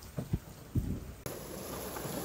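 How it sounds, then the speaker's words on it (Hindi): A few dull knocks give way to a steady wash of heavy rain, a dense, even hiss that continues to the end. "बहुत तेज बारिश हो रही है।"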